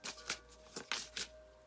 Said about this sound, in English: I think I am just shuffling these upside down.